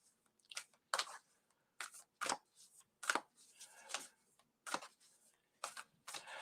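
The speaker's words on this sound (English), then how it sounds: "Just shuffling the cards here for the next person." A deck of playing cards being shuffled at a table, in a run of short, crisp riffling bursts separated by brief pauses, fairly close and quiet with no talking.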